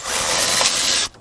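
A ratchet wrench clicks in a fast, continuous burst as it tightens a bolt on an old Ford F250 truck, loud and close, stopping abruptly at the end.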